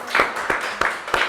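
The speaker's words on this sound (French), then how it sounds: "On va applaudir la présence de Dieu." A church congregation claps in a few loose, spaced bursts, four soft rounds of hand claps at a steady pace, fairly close and moderately loud, with no voices over them.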